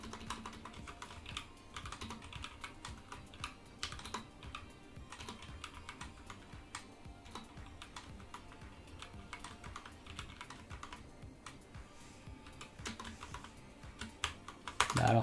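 Rapid, irregular keystrokes on a computer keyboard during a livestream session, clicking in bursts with brief pauses, fairly close and clear with no talk over them.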